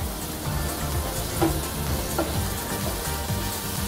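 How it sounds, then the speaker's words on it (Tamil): Mutton and gravy sauté in a pan, a steady, close sizzle and frying hiss with faint stirring sounds and no talk. "நல்லா கிரேவி சுண்டுற வரைக்கும் நல்லா வதக்குங்க."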